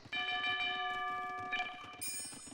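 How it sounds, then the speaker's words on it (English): A town bell in the strategy video game Age of Empires II rings out clear and loud with sustained metallic tones over a steady bed of game ambience, shifting to a higher chime near the end. "he just rung his town bell for 1 little eagle"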